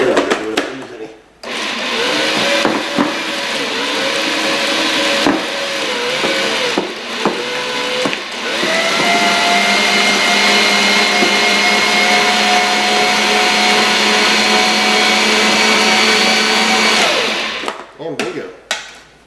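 An electric mixer creaming butter with light brown sugar for chocolate chip and oatmeal cookies, a loud steady motor whir that runs almost continuously with brief dips and shifts in pitch, cutting off near the end.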